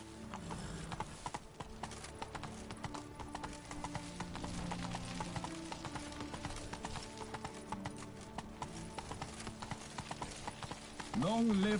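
Roach, a horse in The Witcher 3, trots with steady clip-clopping hooves and jingling tack, with voices speaking over it and a brief whinny at the end.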